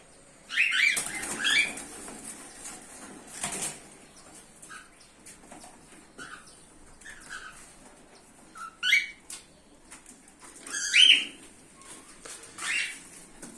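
Birds flap their wings in several short, fluttering bursts, spaced apart, with occasional soft chirps in a quiet setting.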